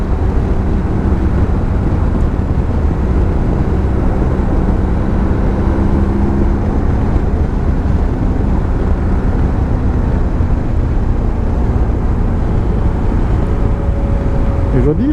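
A BMW R1200GS Adventure motorcycle rides a winter road, the engine and wind a constant loud rushing roar, with a faint drone shifting in pitch early on.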